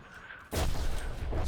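A loud, close artillery blast from a Roblox war game bursts in suddenly after a quiet moment, followed by a sustained roaring rumble of explosions and fire that holds to the end.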